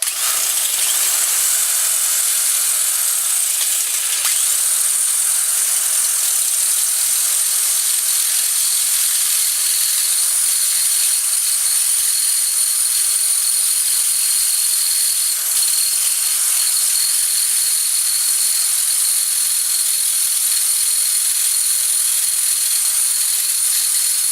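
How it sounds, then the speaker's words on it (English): A drill bores through a stuck screw on the cover of a Sony or Sanyo Betamax VCR, a loud, steady high-pitched whine that runs unbroken for the whole stretch with no talking. "So I only had to drill through the screw"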